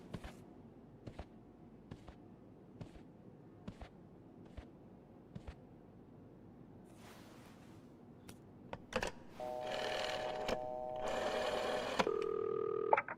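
At a hotel front desk, a telephone is handled with a run of sparse clicks and taps, then a steady electronic tone and a brief ringing buzz. The sound is close and fairly quiet, with no talking.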